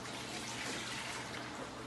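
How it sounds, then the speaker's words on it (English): Three cups of water stream steadily into a mixing bowl for challah dough, a soft continuous pouring hiss close by with no talking. "I'm going to add 3 cups of water"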